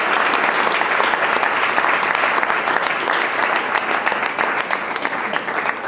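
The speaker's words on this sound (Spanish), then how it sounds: "Denle un aplauso" A church congregation breaks into loud, vigorous clapping during a pastor's sermon, a dense and continuous burst of many hands that stays strong and even throughout.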